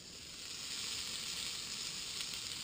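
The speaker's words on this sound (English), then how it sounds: "All right, the wings are cooking." Chicken wings sizzle on a small, very hot barbecue grill, a steady, close, bright hiss that holds evenly throughout with no talking.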